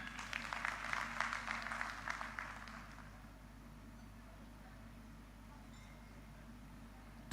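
Audience applause at a summit, a moderate patter of clapping hands for about three seconds that then fades to a quiet room hum.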